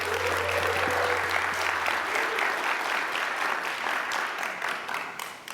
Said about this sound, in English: Big warm round of applause for Tammy Burnitt and Jacob Brown.